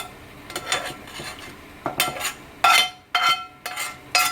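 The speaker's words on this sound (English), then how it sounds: "we'll add our seared vegetables, our celery, our garlic, and our onions" Seared celery, garlic and onions scraped into a slow cooker pot roast, a series of close clattering utensil scrapes and clinks against the pot in irregular bursts, with a faint sizzle between them.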